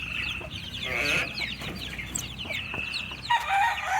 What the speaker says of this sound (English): I got some pretty bantams walking around.